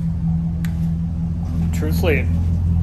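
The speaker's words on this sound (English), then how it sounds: "hopefully you made it this far to hear the sound of the truck." A 2010 Chevy Silverado with an MBRP 3-inch exhaust idles close by with a steady low rumble, while someone speaks briefly over it.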